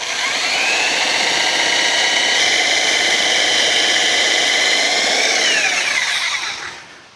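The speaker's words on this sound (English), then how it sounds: "let's try the Sawzall and see if that works" A Sawzall reciprocating saw cuts through a tree root while digging around a Victorian house. Its steady, loud buzzing drone holds for about six seconds and then tapers off at the end, with no talk over it.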